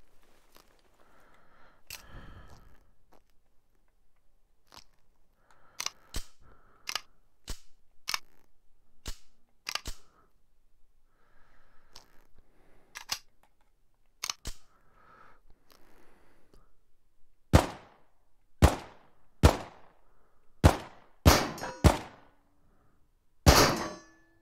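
Gunshots ring out in the VR shooter Into The Radius, first as sparse, sharp single cracks spaced irregularly and then as a louder, faster cluster of close shots near the end, with quiet ambience between.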